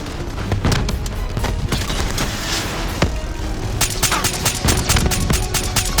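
Rapid gunfire during a boss fight in Call of Duty: Black Ops 3, loud continuous bursts with dense overlapping shots and occasional heavier booms, close and intense.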